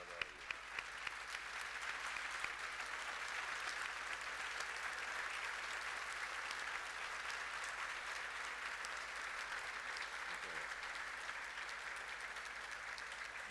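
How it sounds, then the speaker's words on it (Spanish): A theatre audience gives Alejandro Doria sustained applause at a tribute evening, a dense, even roar of clapping that holds steady at a distance for over ten seconds. "merece que tengamos un aplauso cerrado para Alejandro Doria"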